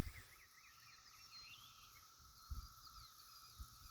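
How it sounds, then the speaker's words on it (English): Cicadas buzz steadily in the countryside, a faint, continuous high-pitched drone layered with chirping insect calls, with a few soft low thumps nearby. "just out here listening to the wild sound of the cicadas out here, and it's a really neat sound."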